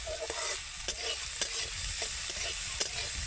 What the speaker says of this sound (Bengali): এবার আমি ভালো করে দুটো সবজিকে ভেজে নেব